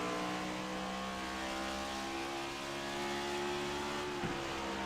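Race car engine at the Iowa track heard from inside the cockpit, a steady loud drone holding constant pitch with a slight surge near the end, no voices.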